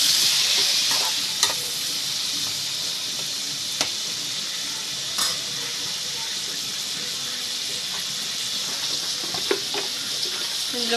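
Two large tomatoes sizzle steadily in hot oil in a pan for tomato chutney, a continuous close hiss broken by occasional sharp clicks of stirring, with no talking.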